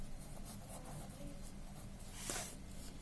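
Pen writing by hand on paper while a flowchart is drawn, soft close scratching strokes with a brief louder scrape, faint against a low room hum and no talking.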